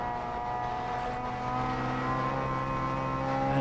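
Honda Civic and Peugeot 205 race cars on the opening lap of a 24-hour endurance race at Anglesey, their engines blending into a steady, loud drone that swells slightly toward the end, with no voices.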